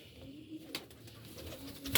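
A pigeon, a breeder's bird kept in a loft, gives soft low coos close by, a few short calls over quiet room background with a brief knock near the end.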